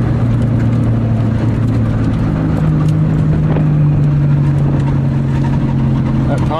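A 1990 Honda Civic drives on a winter test run, its engine a steady low drone heard from inside the car, with a rising rev partway through and constant road and cabin rumble.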